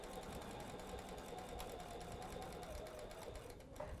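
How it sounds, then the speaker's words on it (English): A sewing machine stitches binding onto a quilted, quilt-as-you-go tree skirt, a steady, close mechanical whir running continuously without pause and fairly quiet overall. "And we're sewing on our binding."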